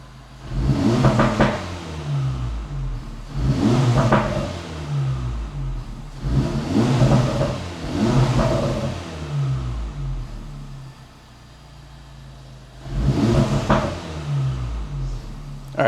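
A warmed-up Acura Integra Type S (DE5) with a Sprint air filter revs repeatedly, four loud surging bursts of engine roar separated by brief idle dips, heard close with the windows down.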